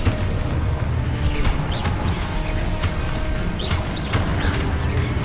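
A Confringo fire blast spell cast in Hogwarts Legacy gives deep booming bursts and crackling, whooshing flares over a dense, continuous layer of loud game noise.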